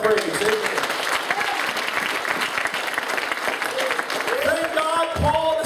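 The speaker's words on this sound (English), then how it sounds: "Give the Lord a hand clap of praise." A church congregation claps hands in praise to the Lord during a sermon, a dense steady patter of many hands filling the room, with voices calling out over it toward the end.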